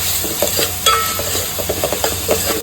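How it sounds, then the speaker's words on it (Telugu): Ginger garlic paste fries on a low flame for a dhaba-style kaju paneer masala, a soft steady sizzle punctuated by the scrape and clink of a spoon stirring the pan, close and clear with no talking. "అల్లం వెల్లుల్లి పేస్ట్ స్మెల్ పోయేంత వరకు లో ఫ్లేమ్లో నైస్గా ఫ్రై చేసుకోవాలి"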